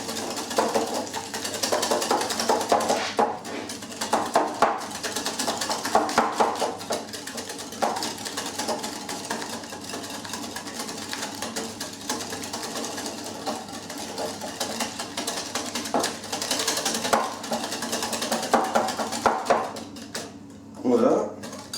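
Eggs and sugar are whisked by hand in a salad bowl, making a steady, rapid clatter of the whisk against the bowl that runs throughout. A person talks over the whisking.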